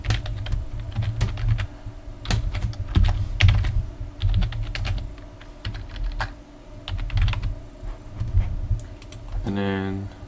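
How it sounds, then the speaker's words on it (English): Close, rapid clicking of a computer keyboard as an email address is entered, irregular bursts of keystrokes with a voice speaking over part of it. "You're going to type in their email."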